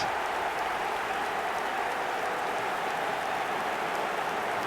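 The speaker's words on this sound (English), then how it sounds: "Even some of the opposing fans are clapping that." A steady wash of applause from a football crowd after a goal in a video game, dense and unbroken throughout like heavy rain, with no clear voices above it.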